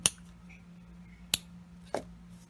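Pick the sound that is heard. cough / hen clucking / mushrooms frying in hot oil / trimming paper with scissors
trimming paper with scissors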